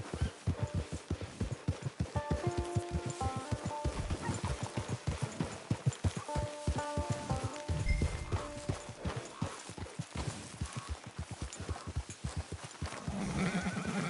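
A horse's hooves clip-clop in steady, even rhythm in Red Dead Online, close and clear, with soft tonal game sounds drifting underneath.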